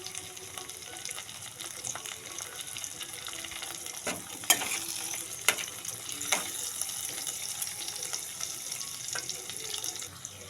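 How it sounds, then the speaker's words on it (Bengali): Tomatoes fry in a pan for kudri curry, a steady hissing sizzle with occasional sharper crackles and clinks from stirring. "এতে আমি এবার একটু টমেটোগুলো দিয়ে দেবো।"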